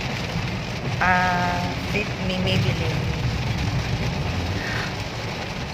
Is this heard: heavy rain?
yes